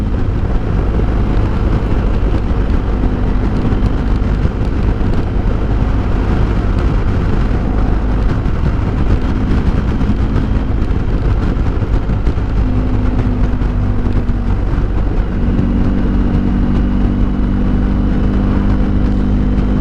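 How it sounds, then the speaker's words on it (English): A BMW R1250 GS Adventure motorcycle accelerates hard on the Great Ocean Road, its engine droning loudly and steadily throughout, with rising tonal pitch sweeps as it climbs through the revs, heavy wind rush mixed in. "So I don't open up the bike very often, and it's nice to give it a little bit of a squirt"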